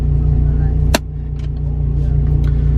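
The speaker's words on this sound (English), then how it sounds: "all I'm going to do is just start the car up" A manual stick-shift car engine idles steadily after starting, a low, even hum with one sharp click just before the one-second mark.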